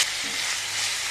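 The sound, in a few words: fennel, cinnamon and curry leaves frying in oil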